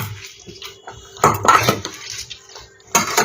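Boiled figs being mashed and squeezed by hand in a bowl for kofta, giving soft wet squelching with clinks and bumps of the bowl, a couple of louder bursts of handling close up, no talking.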